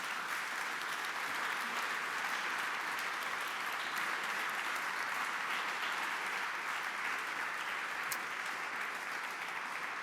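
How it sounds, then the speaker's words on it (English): Conference audience giving a warm round of applause to panelists after a design and development discussion, a broad, even wash of clapping from a large hall, sustained and fairly distant for the whole stretch. "please give a warm round of applause to Ivan,"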